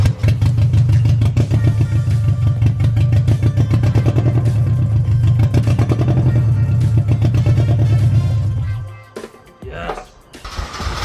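Nissan S14 Zenki car engine cranks, catches and runs with a rough, clattery idle close by for about eight seconds, then cuts off, followed by brief handling noises.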